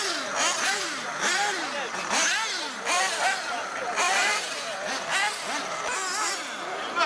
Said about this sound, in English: One eight nitro buggy.